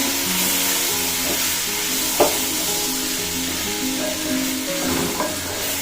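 Fatty pork pieces fry in a little oil and get stirred, giving a loud, steady sizzle with occasional scraping and clanks of a spatula against the pan.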